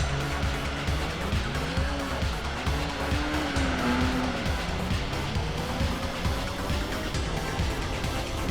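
A Nissan Skyline racing in Gran Turismo 4, its engine whining up and down through the gears with repeated tire squeal through corners, loud and continuous, with no talking.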